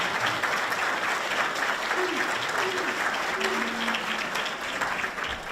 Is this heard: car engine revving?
no